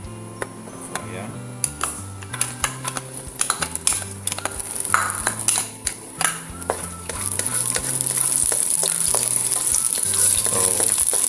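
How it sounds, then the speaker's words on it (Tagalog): Garlic sizzles in coconut or vegetable oil, a steady frying hiss under a busy run of clinks and scrapes from a utensil against the pan, and the hiss grows fuller and louder toward the end. "ako inuuna ko yung garlic para mag-release ng aroma yung garlic sa oil"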